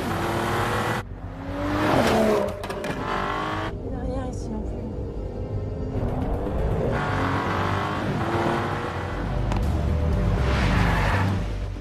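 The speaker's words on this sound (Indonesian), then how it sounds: "mereka pun kembali menancap gas pergi ke Bandara Soekarno-Hatta secepat mungkin dengan menggunakan mobil Mercy" A Mercedes car in a film scene speeds off, its engine roaring with bursts of tire squeal and skidding throughout, loud and close, mixed with voices and other scene sounds.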